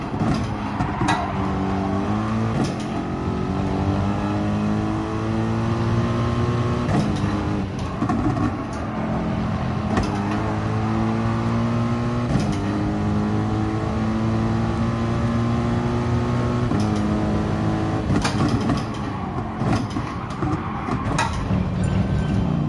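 Race car engines in Gran Turismo Sport at Barcelona, a near car repeatedly revving up through the gears in rising sweeps with shift breaks, loud and continuous with other cars audible around it.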